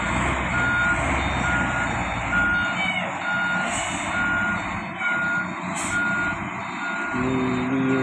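A tronton truck reversing while a bulldozer is loaded onto it, its backup alarm beeping in a steady, evenly spaced pattern over a loud, continuous engine rumble.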